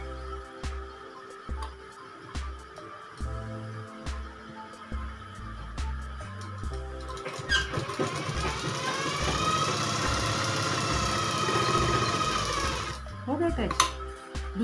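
A sewing machine stitches a balloon top in short rhythmic bursts, then runs in a longer steady stretch before stopping, with someone speaking over the stitching.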